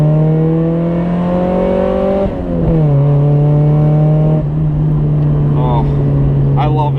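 A 1990 Mazda Miata's loud exhaust with a test pipe drones at close range, its pitch rising, dipping and settling into a raw, rumbling idle. Faint voices come in near the end.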